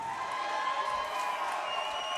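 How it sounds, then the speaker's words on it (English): A crowd cheers at an MMA fighter's walkout: a steady, distant roar of voices with music-like tones running underneath, unchanging throughout a short stretch. "I'm just going to let the crowd die down a little bit before I start talking here"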